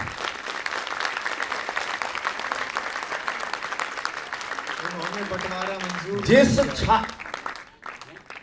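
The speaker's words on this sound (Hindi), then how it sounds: "एक बार जोरदार तालियां यहां पे होनी चाहिए थी।" An audience at a Hindi poetry recital gives a round of applause, a steady patter of clapping that gives way to someone speaking near the end.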